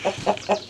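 Hens settling in a muddy homestead coop in Maine at night, giving four short, close, soft clucks in quick succession with no talk.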